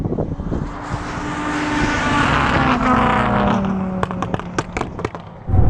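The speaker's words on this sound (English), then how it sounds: "That rallycross car absolutely nails it off the line." Rallycross car launching hard off the start line, a loud rising engine roar that builds and sustains for several seconds, followed by sharp cracking pops and bangs near the end.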